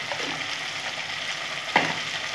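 Egg curry masala with cumin and coriander powder sautéing in a pan, a steady close sizzle with a brief sharp scrape of a spatula near the end.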